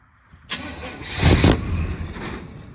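A car engine with too much ignition timing cranks and fires, then revs loudly in a surge before settling into a rough, rumbling idle, close by.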